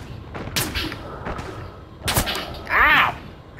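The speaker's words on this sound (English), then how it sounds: "Stop shooting me!" Gunfire in the World War I shooter Verdun, several sharp rifle cracks and thuds at uneven intervals, some near and some farther off, mixed with a brief cry of pain.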